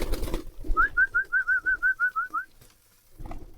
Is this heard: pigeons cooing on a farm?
yes